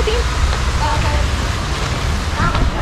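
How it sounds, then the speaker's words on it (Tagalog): Steady rushing water fills the clip, a continuous broadband roar with low rumble, loud and close throughout, with faint voices underneath. "Narinig niya kasi yung tunog ng agos."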